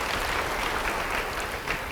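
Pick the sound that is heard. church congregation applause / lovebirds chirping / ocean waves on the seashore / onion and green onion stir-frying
church congregation applause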